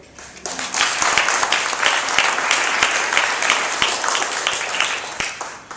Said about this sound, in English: So just a round of applause for ourselves as the YouthScape network